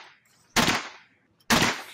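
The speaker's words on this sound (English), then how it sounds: "How does the sound of gunshots make you feel?" Two sharp recorded gunshots about a second apart, each a loud crack with a brief decaying tail, played alone with no talking.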